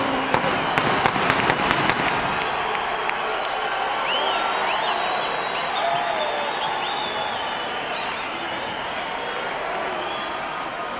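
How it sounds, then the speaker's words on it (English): A boisterous boxing arena crowd roars as Fernando Vargas enters the ring for his fight with Oscar De La Hoya. It opens with a rapid burst of sharp cracks, then a dense, sustained wave of cheering and whistles fills the hall. "His deeply loyal and boisterous crowd of followers expressing their approval."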